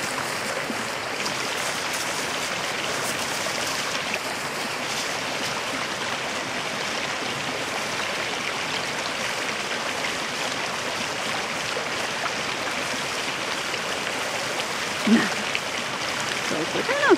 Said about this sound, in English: See how much rain we've had. The creek's washed out.